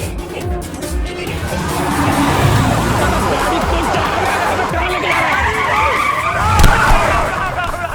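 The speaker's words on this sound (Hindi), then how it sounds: "अबे गाड़ी रोक।" A car skids to a stop with long, loud tire squeal and engine roar over road noise, a sharp bang near the end.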